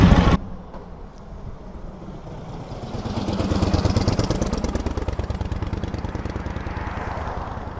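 A 1946 Harley-Davidson FL Knucklehead V-twin, firing up for the first time in twenty years, settles into a loud, close, lumpy idle and then revs with a rapid, uneven throbbing beat. No one speaks.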